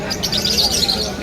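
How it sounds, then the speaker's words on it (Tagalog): Small caged birds at a Malabon pet market chirp in a dense, continuous high twittering, loud and close, over a low market background murmur. "Mga ibon yan"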